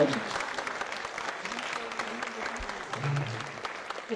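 An audience at a conference applauds after a panel discussion on U.S. countermeasures. The round of steady, moderately loud clapping runs through the whole stretch, with a voice speaking over it.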